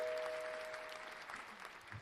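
Faint applause for a guest on a podcast set, a soft, steady patter of a few people clapping that slowly fades over two seconds.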